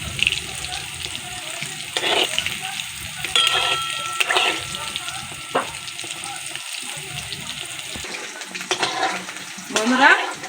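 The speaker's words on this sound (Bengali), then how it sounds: "এবার আমি খুন্তি নিয়ে একটু নাড়িয়ে দেবো তলার দিকে।" Chicken pakora frying in oil, stirred with a spatula, giving a steady bubbling sizzle broken by a few scraping strokes, up close with no talking.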